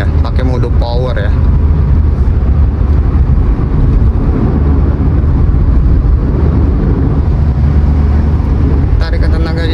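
Toyota Agya Type G CVT 2024 pulling hard in power mode in sixth gear on a toll road near Cibubur, a steady loud drone of engine and road noise continuing throughout, with someone talking over it.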